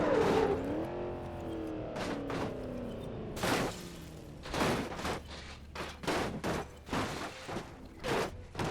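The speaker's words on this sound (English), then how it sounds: "And that was that crash." A car crash in the driving simulator game BeamNG Drive: an engine note winding down, then a series of sharp bangs, thuds and crunches of impact spread over several seconds, moderately loud with no talking.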